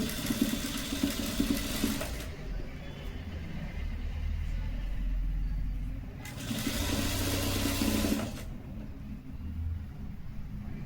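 Sewing machine stitching lace onto a suit, running in two steady bursts of whirring with a short pause between, loud and close, with no other sound over it.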